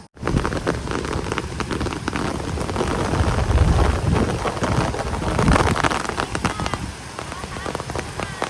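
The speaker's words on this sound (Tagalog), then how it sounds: "Ayan na ang ulan." Heavy rain pours steadily on a farm during planting, a loud dense hiss of drops on surfaces with brief sharper spatters, and a low rumble swelling midway.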